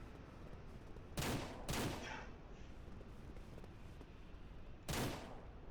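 Revolver shots fired while chasing a deer in the ranching game Ranch Simulator: three sharp, loud reports, two close together near the start and a third after a long pause, over faint background noise.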